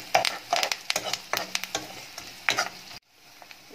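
Onions and chillies fry in hot oil for a drumstick fish curry. Quick scraping stirring strokes come in irregular bursts over a soft sizzle, then break off into near silence.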